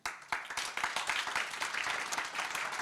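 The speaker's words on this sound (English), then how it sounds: "Please join me in giving another round of applause to them." An audience at a business forum applauds, dense steady clapping that begins sharply and continues for about three seconds.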